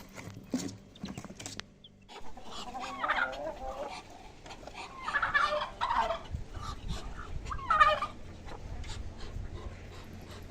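Bantam chickens cluck and squawk intermittently in an open yard, with a few sharper calls standing out against quiet background noise.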